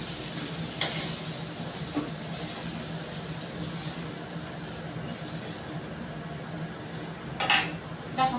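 Fried fish lifted from the pan into a serving dish: a few sharp metal utensil clinks ring out over a faint continuous sizzle, with a louder cluster of clatter near the end.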